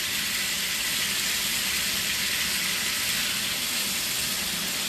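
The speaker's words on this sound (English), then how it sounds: "You want to hear that sizzle" Oil sizzles steadily in a pan, a loud, constant crackling hiss close by that holds unchanged throughout.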